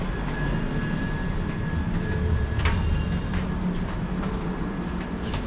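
Steady rumble and hiss inside a moving AC express train on the Haridwar–LTT route, with faint rail clatter and a few brief clicks, continuous and moderately loud with no talking.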